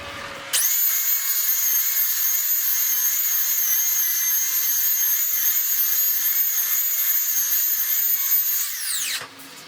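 Power sander working across a wood surface on a workbench, a steady high-pitched motor whine running continuously for about nine seconds before spinning down, loud and close with no talking.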